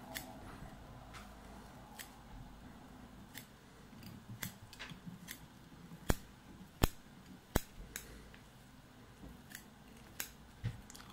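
Small scissors snip bucktail fly-tying materials for a muskie and pike fly, a string of crisp, close snips at irregular intervals, a few louder and sharper, against a quiet room.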